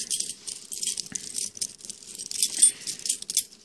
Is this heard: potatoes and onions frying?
no